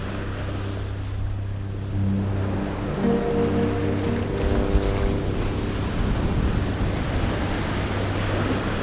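Rough sea breaks against the rocky Llevant coast of Mallorca, a steady surging roar of waves with wind, fairly close and loud, no voices.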